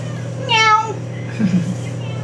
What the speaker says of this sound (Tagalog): Pusa talaga ito eh.